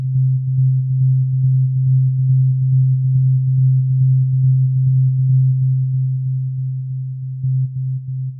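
A steady low sine tone pulsing on each beat in FL Studio, smeared by a long-feedback delay into a continuous drone that runs unbroken for the whole stretch at a fairly loud level.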